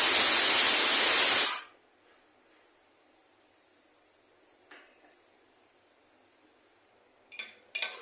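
A pressure cooker on a medium-low gas flame lets out a loud, sharp hissing whistle for about a second and a half before it cuts off, followed by near silence and a couple of faint clinks.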